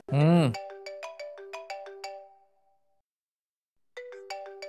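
A mobile phone rings with a melodic ringtone of quick bright chiming notes that plays, stops, then starts again, preceded by a brief loud voice.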